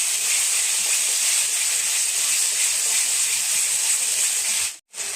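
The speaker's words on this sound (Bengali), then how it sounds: "এখন আমি ভালো করে কষিয়ে নেব।" Spice paste of turmeric and Kashmiri chili powder sautéing in a pan, a loud, steady hiss of frying that runs unbroken before cutting out briefly near the end.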